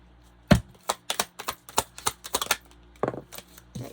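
A deck of tarot cards is shuffled close by in a series of sharp, dry riffles and taps, about a dozen quick bursts in an irregular rhythm, quiet between them and with no talking.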